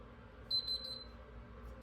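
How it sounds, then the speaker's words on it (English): A quick run of three short, high electronic error beeps from a fingerprint-scanner safe, faint and close, then quiet room hiss. "place your fingerprint on the scanner, move, you'll hear 1 beep."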